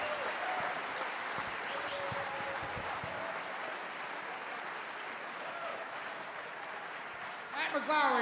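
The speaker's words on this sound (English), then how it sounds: "Matt McClowry, give him a nice round of applause." A comedy festival crowd applauds a comedian after his set, steady sustained clapping filling the room, with a voice and some cheering emerging near the end.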